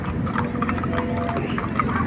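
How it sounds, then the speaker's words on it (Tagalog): Horse hooves clip-clop in a steady rhythm over constant outdoor crowd noise at a Canada Day event in Fort McMurray, and the horse sounds fairly close. "Ang ganda kabayo oh."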